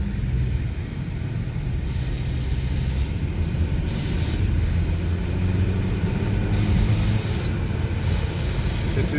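A car accelerates hard through the gears and shifts up into third during transmission adaptive learning, heard from inside as a steady, loud engine and road rumble with no talking.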